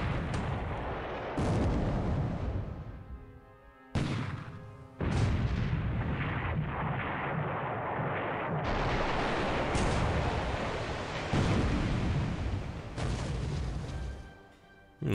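Heavy naval gunfire from the Japanese cruiser Kasuga's 8-inch guns in the War Plan Orange dreadnought game: repeated loud booming salvos that roll into one another, with brief lulls between them. No voices can be heard.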